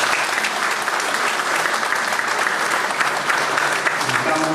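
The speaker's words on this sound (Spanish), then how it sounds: "Por favor, reiterémonos un fuerte aplauso nuevamente." Audience at an academic law lecture applauding warmly, a full, dense round of clapping from many hands that holds steady throughout, with no talk over it.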